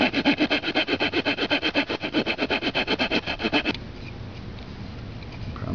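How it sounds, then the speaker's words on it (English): A section of poplar branch is being cut with quick, even rasping strokes, close and steady for several seconds before stopping and leaving low background noise. "I'm going to start to chop off a section here"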